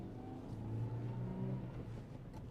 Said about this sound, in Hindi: माशाल्लाह सही उठ रही है गाड़ी।